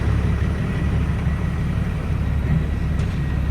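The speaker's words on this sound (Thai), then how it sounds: "รถไถมาแล้ว" A tractor engine runs with a steady, loud, low diesel rumble at a railway earthworks site, close and continuous throughout with no voices.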